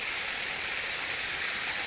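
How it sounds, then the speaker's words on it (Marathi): Water gushing out through a single gate of a village weir, a loud, steady, broadband rush that stays even throughout with no voices. "दरवाजेतून लिके तरी एवढं पाणी चालू आहे पाहिलं का"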